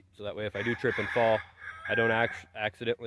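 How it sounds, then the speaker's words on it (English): A rooster crows in the background on a farm with chickens, mostly under someone talking close to the microphone. "You can hear the rooster crowing in the background."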